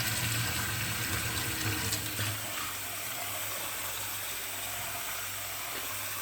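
Water poured off soaking wheat grains, a steady close pouring and trickling stream that runs throughout, with a low hum underneath and a slight drop in level partway through.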